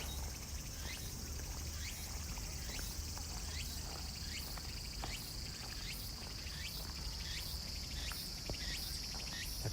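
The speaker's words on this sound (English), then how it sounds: "Cicada are buzzing. Sounds like the autumn cicada." Autumn cicadas in Tokyo buzz in repeated pulsing bursts, a high steady shrill with rhythmic chirping accents, continuous and fairly close, with no voices.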